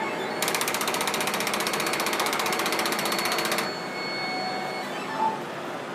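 A Viper direct-to-garment pre-treatment machine runs with a rapid, even mechanical clatter for about three seconds, then stops, leaving a faint hum and a few small clicks.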